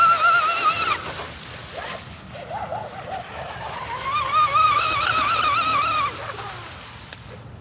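A small RC boat runs across a lake, its motor whining in a steady high tone that rises as it speeds up to full throttle, loud and fairly close, with water rush underneath.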